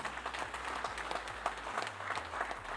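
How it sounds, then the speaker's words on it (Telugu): Audience clapping for a real-estate company at its first-anniversary success meet, a sustained crowd applause of many hands at even loudness from start to finish, near and unaccompanied by speech. "సమూహ ప్రాజెక్ట్స్ ప్రైవేట్ లిమిటెడ్కి బిగ్ క్లాప్స్"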